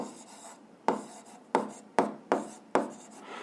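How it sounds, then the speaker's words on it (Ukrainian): Writing on paper during a physics lesson: five distinct pen or chalk-like strokes, each a sharp scratchy onset trailing off, close and moderately loud with no talk. "Так і пишемо закон"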